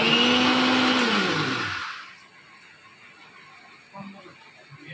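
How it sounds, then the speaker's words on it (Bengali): An electric mixer grinder whirs loudly while blending spices into a paste for chhanar dalna, then winds down and stops after about two seconds, leaving a quiet room with faint clinks. "মশলাগুলো আমি একসাথে মিক্সিতে পেস্ট করে নেব"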